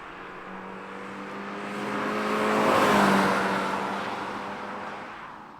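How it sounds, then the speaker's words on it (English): A 2024 Subaru BRZ tS sports car in track mode on a twisty road, its engine droning and rising under throttle to a peak midway, then easing back, heard from inside the cabin. "Let's go on throttle through the twisty bits in this BRZ TS."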